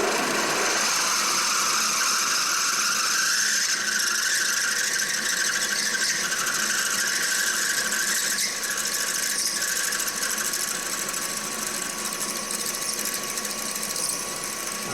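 A drill bores a hole for a 3/8 by 16 TPI set screw in a metal tool body, giving a loud, continuous whine with a high squealing edge that holds steady for the whole stretch.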